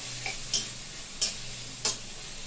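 Vegetables frying in a pan for Maggi noodles over medium flame, a low continuous sizzle broken by three evenly spaced scrapes of a spoon stirring, close and alone without talk.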